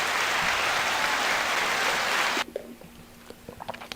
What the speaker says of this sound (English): Round of applause for Drake for that petty shit.